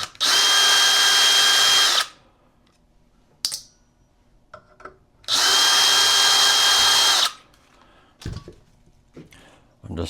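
A power drill removes screws from the light base of a 30-inch ceiling fan, with two loud, steady whirring bursts of about two seconds each, separated by soft clicks and handling noises.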